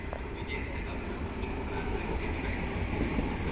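An old-livery train rolls slowly through Firenze Rifredi station on a transit track, a steady, moderate rumble of wheels and cars with faint voices of people nearby.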